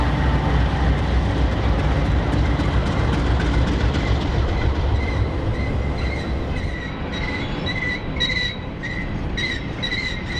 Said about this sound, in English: an as-needed Hopkinsville, Kentucky to Talladega, Alabama loaded grain train